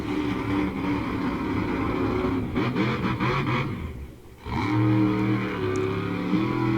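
Monster truck engines rev and roar at a motorsports event, loud throaty revving rising and falling with a short dip before surging again, no speech over it.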